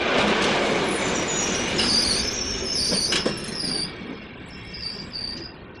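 A train moving through Stuttgart main station, with rumbling wheels and high metallic squeals rising and sliding over the steady roll, loud and near, no talking.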